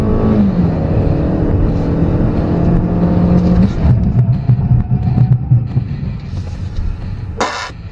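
A 2014 Hyundai Elantra Coupe accelerating hard on a 0-60 mph run at a track, engine droning and rising steadily, then easing off near the end, heard from inside the car.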